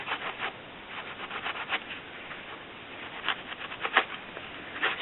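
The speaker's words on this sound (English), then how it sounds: "Just going to keep scrubbing that around." Textured solder is scrubbed with patina solution in quick, uneven rubbing strokes, a close scratchy brushing that comes in irregular bursts and repeats throughout at moderate volume without speech.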